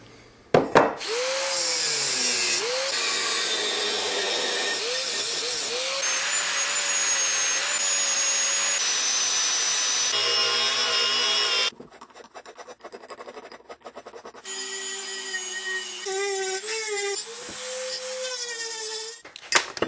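A power tool cuts the gating and sprue off a fresh aluminum casting of a hatch handle, whining steadily with shifting pitch, then grinding and rasping in bursts with brief pauses; loud and close.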